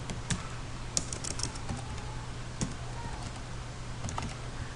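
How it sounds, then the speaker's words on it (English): Quiet, irregular keystrokes on a computer keyboard while a verification code is entered during website setup, light clicks over a constant low hum. "you have to type in the code below"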